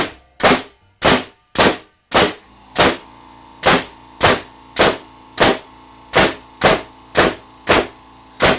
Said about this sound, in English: We're going to try it out with our framing gun and see how many shots and how, you know, well it drives.